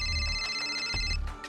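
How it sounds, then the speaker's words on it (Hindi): A phone rings in a Hindi audio drama, a bright electronic ringtone with steady tones over a low background bed, short and fairly quiet. "और तभी जीतू का फोन बजने लगा।"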